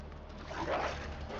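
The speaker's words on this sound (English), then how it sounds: "That's a dog! One got in!" A dog in the video game Resident Evil 2 gives a brief, muffled whimper or growl amid low game background noise, fairly faint and with no voices.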